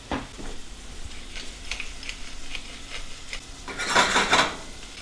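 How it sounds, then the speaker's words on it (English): Mushrooms and onion sauté in a little oil in a pan over relatively high heat, with a soft sizzle, scattered scrapes and taps of a utensil stirring, and a louder stirring swell near the end. "Now I'm sauteing these over a relatively high heat because I want a little bit of caramelization on them"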